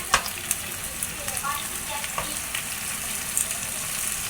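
Kachki fish sizzling and crackling steadily in hot spicy oil in a pan, with small pops and stirring scrapes throughout, close and moderately loud, no talking.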